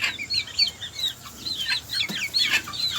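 Chickens clucking in a small backyard coop, a busy overlapping chorus of short clucks and calls from several birds close by, with no voices.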